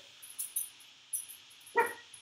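A dog barks a few short, sharp times nearby, with quieter yips between and near silence around them.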